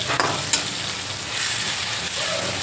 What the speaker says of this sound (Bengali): মশলা পেঁয়াজ টমেটো হালকা হালকা ভাজা হয়ে গিয়েছে